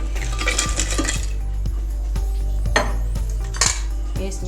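Ice cubes dropped into a vessel of tamarind and plum sharbat, a series of bright clinking knocks against the container, several separate hits spaced through the clip, close and clear with no talking.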